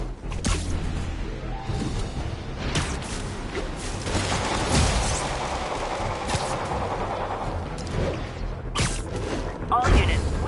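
Gunfire from prisoners in vehicles breaks out in the Spider-Man video game, with bursts of shots, booms and thuds over a dense, noisy city battle backdrop and chatter.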